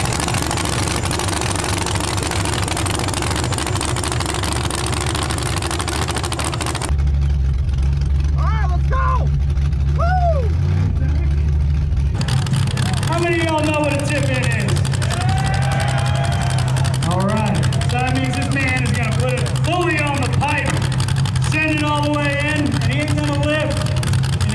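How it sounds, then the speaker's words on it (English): A Toyota Starlet engine rumbling at the SEMA burnyard, loud and steady throughout, with a deep low throb through the middle; excited voices and shouts sound over the engine noise. "Bernie's ready to rev."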